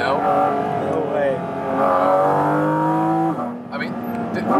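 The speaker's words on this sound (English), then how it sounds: "this shouldn't accelerate the way it does" A Porsche 718 Cayman GT4 RS engine revs and accelerates hard from inside the cabin, its loud rising tone climbing through gears with a shift and drop, while people talk over it.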